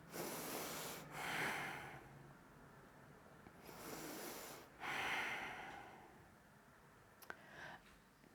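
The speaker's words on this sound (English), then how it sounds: "Breathe it out." Slow, audible exhalations during a yoga flow, two long breathy outbreaths a few seconds apart, fairly close and soft, with a quiet room hum and no talking.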